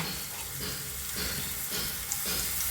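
Crushed ingredients sizzle and fry in hot coconut oil for a Kerala-style stir-fry. The crackle is steady and moderately quiet, with stirring and no speech.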